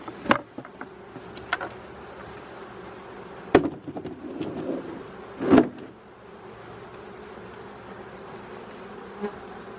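Honeybees buzzing at a hive during autumn feeding with syrup before wintering, a steady low drone with a few louder passes close by, no talk.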